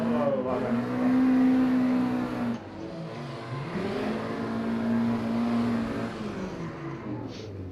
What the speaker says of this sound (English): It might just be it's a very noisy car that actually isn't very fast.